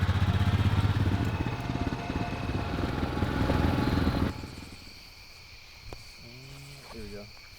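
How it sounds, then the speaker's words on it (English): A four-wheeler ATV engine rumbles loud and close for about four seconds, then cuts out abruptly, leaving quiet background where people talk. "Are we all getting on the four-wheeler again?"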